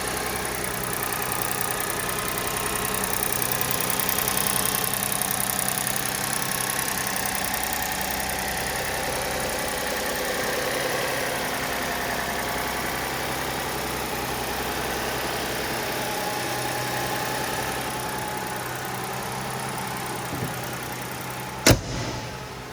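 A 2007 Lexus IS250 with a 2.5-litre V6 idles smoothly and steadily for a long stretch at close range, ending with a short sharp click.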